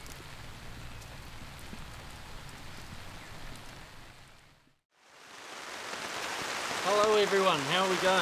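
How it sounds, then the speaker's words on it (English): Heavy rain drums steadily on a taut tarp overhead, a dense close patter; a voice speaks over it near the end. "As you can hear, the rain is absolutely pelting down on this tarp."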